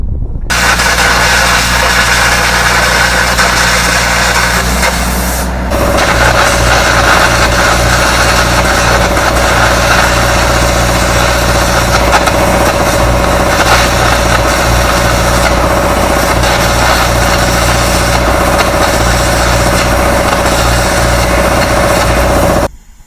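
An engine-driven welder runs steadily for carbon rod air arc gouging on a skid loader bucket, a loud constant engine drone with a brief dip and change in tone partway through, ending abruptly.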